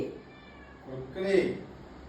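A cat meows once in a short rising call near the end, close by and moderately loud, with people talking around it.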